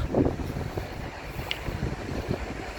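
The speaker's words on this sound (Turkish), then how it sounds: "Şimdi yüksekte olduğumuz için biraz rüzgar fazla." Steady strong wind buffets the microphone at a high point of a residential building, with low rumbling gusts throughout, a continuous blustery roar with no speech.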